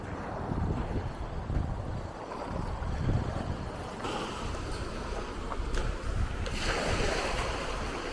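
Waves wash steadily against the Howth coast in a continuous rushing surf, with gusty wind buffeting the microphone throughout and no speech.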